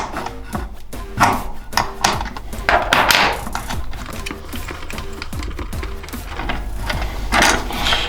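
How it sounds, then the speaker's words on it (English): A 10mm spanner works a nut loose on the indicator of a 2023 Suzuki GSX-8S, giving close, busy metallic clicking and ratcheting in uneven bursts with small knocks and scrapes. "we take our 10mm spanner. We're just going to undo the nut on the side here"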